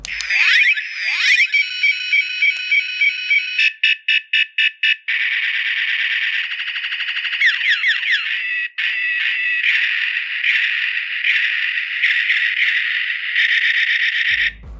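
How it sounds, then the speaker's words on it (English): A giant Minecraft Diamond Steve toy figure plays its electronic sound effects: loud, tinny beeping and warbling tones in rapid bursts and longer buzzing stretches, close and without talk. "let's finally see what sounds our Diamond Steve makes"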